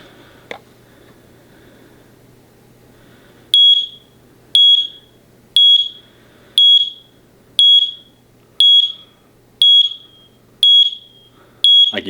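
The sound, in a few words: interconnected wireless smoke/CO combo detector alarm sounding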